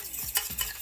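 A fork swirls sauce around a frying pan with soft scraping strokes in a quick, uneven rhythm, close and fairly quiet, over a faint sizzle.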